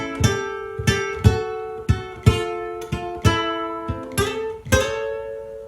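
A ukulele plays a blues turnaround, with about a dozen plucked notes and chords, some sliding up the neck, ringing clearly and alone in an uneven rhythm.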